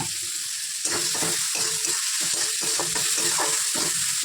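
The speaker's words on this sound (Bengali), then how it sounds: "পেঁয়াজ দিয়ে দিয়েছি পেঁয়াজগুলো ভাজা ভাজা হোক" Onions frying in a pan with a steady close sizzle, broken by repeated rhythmic scrapes of a spatula stirring through them, with no talking.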